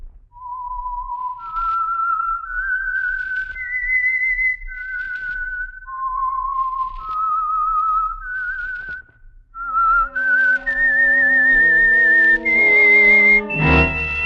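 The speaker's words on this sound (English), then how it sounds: "the signal to listen for is this whistle that identifies the Signal Oil program" A lone whistled melody serving as the theme of the old radio mystery program The Whistler, clear sustained notes in a slow eerie tune, then joined by orchestral chords that swell to a close.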